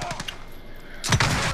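Gunfire in Call of Duty: Modern Warfare, with a few faint distant shots followed by a sudden louder burst of close shooting near the end.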